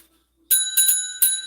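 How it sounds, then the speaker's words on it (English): A bright bell rung three times in quick succession, sharp metallic strikes with clear ringing tones that sustain between hits, close and loud after a moment of silence. "So final call for the bell ring"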